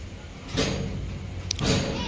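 A door in a family home is shut or pushed hard, giving two heavy broadband thuds about a second apart over a steady room background.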